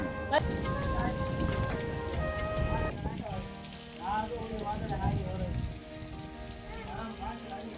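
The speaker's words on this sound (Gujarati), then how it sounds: "અત્યારે તો વરસાદ શરૂ છે" Rain patters steadily on a surface throughout at a hillside Hanuman temple near Palitana, while a person talks and others chatter in the background.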